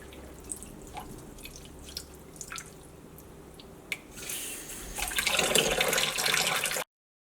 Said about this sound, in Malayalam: അതിന് ഞാൻ കുറച്ച് വെള്ളം ഒഴിച്ചിട്ട് ഒന്ന് നന്നായിട്ടൊന്ന് കഴുകിയെടുക്കേണ്ടത്.